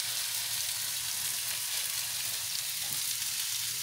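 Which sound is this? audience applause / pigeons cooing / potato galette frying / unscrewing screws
potato galette frying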